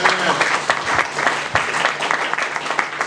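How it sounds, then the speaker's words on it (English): A crowd claps in warm applause at a Juneteenth celebration, with a brisk, continuous patter of many hands, close and fairly loud throughout the short stretch. "I think we should give them all a big round of applause"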